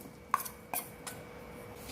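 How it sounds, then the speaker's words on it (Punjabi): Lumps of jaggery are broken into pieces in a kitchen, giving two or three sharp cracking snaps spaced apart, close and fairly quiet with no voices. "ਗੁੜ ਨੂੰ ਅਸੀਂ ਤੋੜ ਲਿਆ ਵਾ ਟੁਕੜਿਆਂ ਦੇ ਵਿੱਚ"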